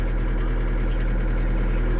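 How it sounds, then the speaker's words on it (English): A John Deere skid steer's engine idles just after starting, a steady, loud, close low drone with an even throb and no talk over it. "Engine fired up."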